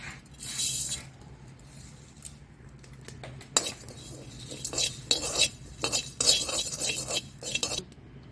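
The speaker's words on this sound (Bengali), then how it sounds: "গরম মশলা একটু ভেজে নিচ্ছি একটু জিরে দিয়ে দিচ্ছি" Garam masala and cumin roasting in a pan come through as clinks and scrapes of a metal spoon against the pan. Faint sizzling sits underneath, and the stirring grows busier and louder toward the end.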